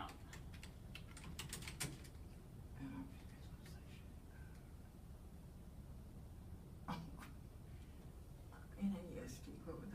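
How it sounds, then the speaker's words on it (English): Quiet, scattered keyboard clicks come in irregular clusters against a soft background hum, with faint voices murmuring now and then. "I think you're gonna have to type that one out."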